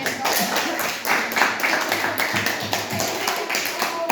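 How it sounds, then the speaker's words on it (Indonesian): Students in a classroom applaud a group, with close, irregular clapping and tapping from a modest number of hands, scattered voices underneath, lasting around four seconds. "Oke, tepuk tangan untuk Bella dan teman-teman."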